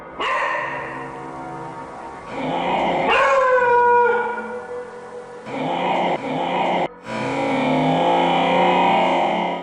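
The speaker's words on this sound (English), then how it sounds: "you can hear something growl back at the dog at 45 seconds into the video" A dog howls and whimpers in a supposedly haunted pantry, loud and close, in several long wavering bursts broken by short pauses, with no talking.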